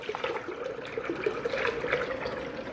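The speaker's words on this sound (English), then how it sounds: "wash out this cup" Cup rinsed out under a running kitchen tap, with a steady, close splash and trickle of water throughout and no voices.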